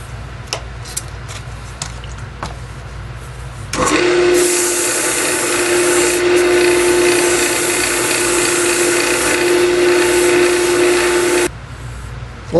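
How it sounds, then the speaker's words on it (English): A wooden Christmas ornament is sanded with 240 grit sandpaper: after a few seconds of quiet background ticks, a steady, loud, even rasping sets in for about eight seconds and then stops. "This is 240 grit sandpaper."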